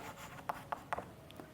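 A subtraction answer is written during a Class III maths lesson, heard as three quick, soft scratching strokes close by in a quiet room.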